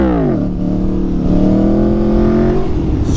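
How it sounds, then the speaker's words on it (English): An Aprilia Tuono 1100rr motorcycle engine revs hard during a wheelie, loud and close, with a sharp climbing pitch that holds at a sustained high rev before dropping away. "just practice that until you feel it jump a lot, and then give it a little bit more gas"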